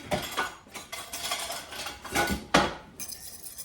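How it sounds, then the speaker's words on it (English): Pizza dip ingredients, including shaky cheese, are stirred together in a bowl, with irregular utensil scrapes and clinks against the dish close by and no talking. "now we stir all that together"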